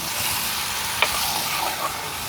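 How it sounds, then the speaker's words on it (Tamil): Squid being stir-fried in a pan in a village kitchen, a steady loud sizzle with faint stirring scrapes and a small clink partway through, no voices. "கணவாயை போட்டு பிட்டாட்டி தான் பாசம் பெறுது"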